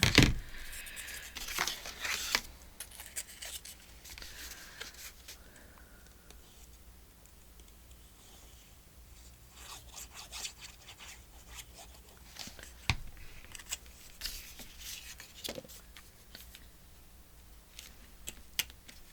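Scissors cut into a paper file folder, a few crisp snips and rustling paper handling near the start and again later, fairly close and quiet, with long stretches of soft background between.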